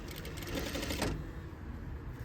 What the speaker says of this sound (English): sew down, do the understitch, and then you're gonna back tack